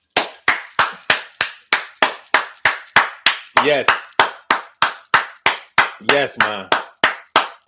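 A single person claps hands loudly and steadily, about twenty sharp, evenly spaced claps close to the listener, while a voice speaks briefly over a couple of them.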